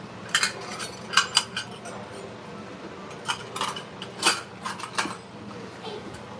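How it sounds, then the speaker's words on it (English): Metal cutlery scrapes and clinks against dishes while Mexican rice is plated from a deep skillet, coming in irregular bright taps and clusters, close and fairly loud against a quiet kitchen background. "I'm gonna start plating"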